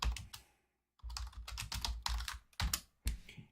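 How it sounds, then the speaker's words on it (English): Quiet clatter of typing on a computer keyboard into a search bar, in short irregular bursts of keystrokes separated by brief pauses, close and alone. "what I typed into the search bar there"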